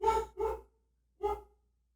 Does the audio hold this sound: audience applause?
no